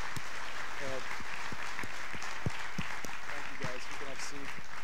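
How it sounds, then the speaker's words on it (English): Members at a meeting clapping for the staff, a thin scattered round of claps under background murmur, fairly distant. "Give our staff a round of applause"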